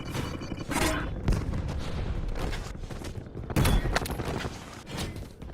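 A Grinkova pistol fires in Call of Duty Warzone Mobile amid a busy firefight, a series of sharp loud shots and bursts, some close and punchy, with background gunfire and explosions overlapping.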